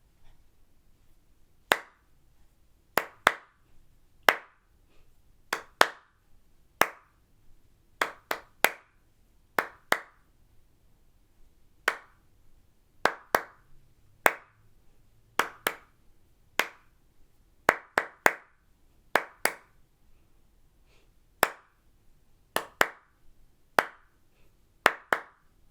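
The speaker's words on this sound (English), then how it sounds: "So I'm going to do the clapping part." Hands clap out a steady rhythmic pattern, sharp crisp claps in pairs and groups with short pauses between, close and clear against a quiet room.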